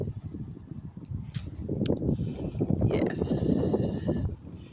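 Wind gusting outdoors in a vineyard, a steady rough rumble buffeting the microphone throughout, with a brief higher whistle near the end.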